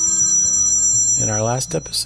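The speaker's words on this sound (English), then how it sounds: "the phone rang as well" A telephone rings with a steady electronic tone for about a second, then a voice talks over the end of it.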